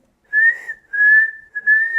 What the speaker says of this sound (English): So when you whistle, you make 휘 sound, right?